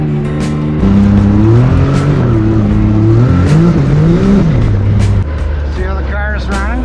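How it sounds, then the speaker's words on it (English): A car engine runs steadily on an off-road climb, its tone rising and falling with revs, loud and close, with voices over the top. "See how the car is running?"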